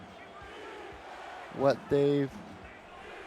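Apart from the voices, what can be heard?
football crowd chanting defense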